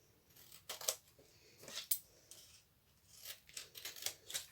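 Scissors cut around a laminated card, giving sharp, quiet snips in irregular clusters, close up with soft pauses between cuts and no speech.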